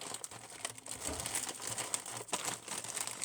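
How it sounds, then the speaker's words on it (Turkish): Plastic packaging being cut open along its edges, with close, continuous crinkling and rustling of the bag and small snips and crackles, fairly quiet and without talk. "poşetimizi şöyle kenarlardan kesiyorum ki açabileyim"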